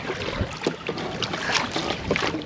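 A homemade solar kayak being paddled into a following wind on the Gulf Coast Intracoastal Waterway, with rhythmic paddle splashes over steady wind rush and choppy water.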